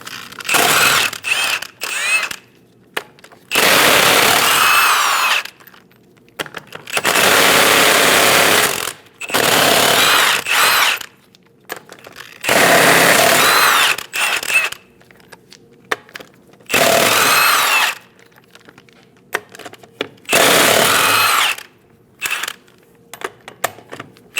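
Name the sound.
power tool with 22mm socket removing lug nuts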